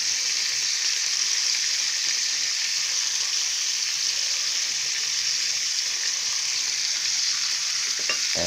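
Steak frying in a hot pan, a continuous loud sizzle with steady crackling and no voices.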